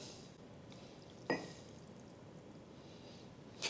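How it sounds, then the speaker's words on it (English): Water poured into a container before planting bulbs gives a few brief splashes and trickles, one sharper pour near the middle and another at the end, against a quiet room background. "Oh, before I plant, I want to add water."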